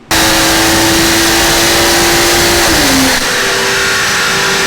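A BMW M140i engine, stock apart from exhaust and intake, revs hard on a dyno and holds a steady high drone, then its pitch dips and the level drops slightly near the end, loud and close.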